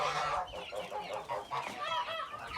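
Free-roaming backyard chickens cluck and chatter in overlapping bursts, several birds calling at once, moderately close and without talk.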